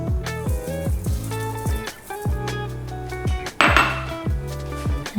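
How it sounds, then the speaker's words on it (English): Metal spoon clinks and scrapes rhythmically against a hot bowl while stirring salt into freshly made Chinese chilli oil, repeated sharp ringing knocks close up, with a brief sizzle partway through. "And just give it a mix."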